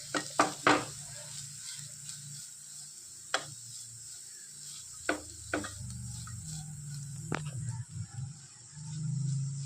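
Bitter gourd for a Kerala-style egg thoran is mixed in a pan under a quiet, steady sizzle, broken by scattered sharp spatula knocks and scrapes, with crickets chirping faintly in the background.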